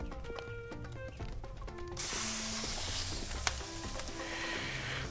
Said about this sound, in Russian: Так, с ножки давай жарить.